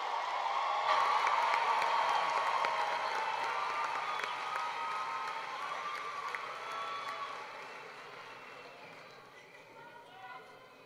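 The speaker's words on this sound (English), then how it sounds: "Family, friends, and faculty, please help us applaud their achievement as their name is called and they walk across the stage" A large crowd at a university spring commencement applauds and cheers for graduates crossing the stage. The sustained, hall-filling roar is strongest at first and then gradually fades, with voices mixed into the ovation.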